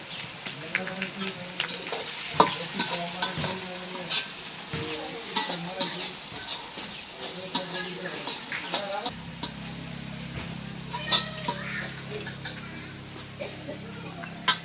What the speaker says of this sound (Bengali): পেঁয়াজটা সুন্দর করে ভাজা নিলাম।